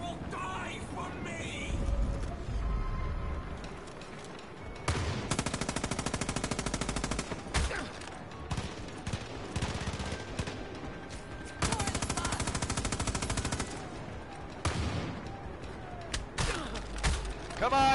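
Gunfire in Far Cry 5: long, dense bursts of rapid machine-gun fire alternate with single shots and quieter gaps, loud and close, with a voice talking between bursts.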